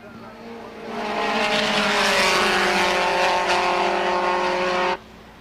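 Race cars at the 1989 SCCA National Championship roar past in a loud, sustained engine howl that swells after a second and holds steady before cutting off sharply near the end.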